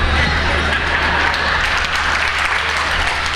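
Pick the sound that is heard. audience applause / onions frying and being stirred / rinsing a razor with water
audience applause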